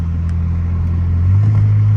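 A 680 hp twin-turbo V6 Cadillac ATS-V accelerates, its deep, steady engine drone heard from inside the car and rising slightly in pitch toward the end.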